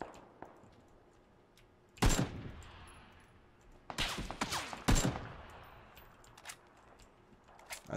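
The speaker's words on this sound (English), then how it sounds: "I'm getting shot in the back." PUBG gunfire: sharp bursts of shots crack out in clusters around the two-, four- and five-second marks, with quieter ambient game noise between the volleys and no speech.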